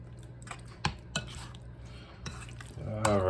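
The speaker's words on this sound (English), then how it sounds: "Everything's going to get nice and stirred." Indian butter chicken stirred in a pot, a spoon scraping and clinking against the metal in several close strokes, with a low background hum.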